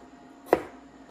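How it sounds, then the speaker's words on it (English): A single sharp knife chop on vegetables in a home kitchen while preparing Filipino freezer meals, one brief crisp impact standing out from quiet room tone. "there's a lot of chopping because, you know, I do like to have vegetables in here."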